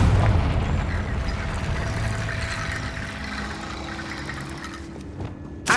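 A Confringo blasting spell going off in Hogwarts Legacy, heard as a loud sustained rumbling blast that slowly fades, with a sharp pop right at the end.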